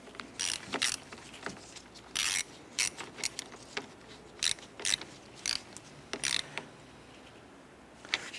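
A ratchet clicks in quick bursts while snugging down the positive battery terminal on a 1993-1997 Ford Ranger, with close, crisp rhythmic ratcheting separated by short pauses and no speech.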